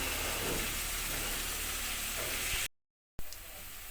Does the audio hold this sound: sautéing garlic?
yes